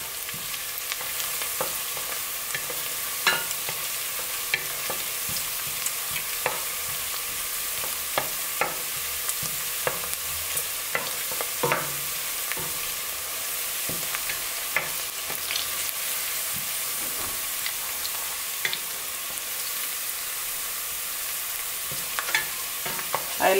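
Garlic frying in a pan for a beef and cabbage stew, a constant hissing sizzle broken by frequent sharp scrapes and clicks of stirring, no talking.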